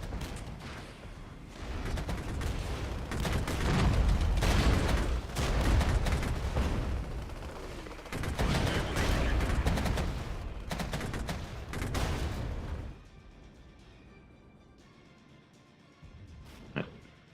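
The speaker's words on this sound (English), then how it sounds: "That's mortar fire." Mortar and artillery fire in the Cold War strategy game Regiments rumbles in a heavy barrage, repeated deep booms and blasts rolling together for about twelve seconds before fading into quieter distant rumble with one late thud.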